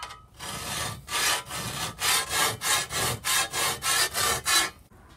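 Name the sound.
filing a shovel's edge with a metal file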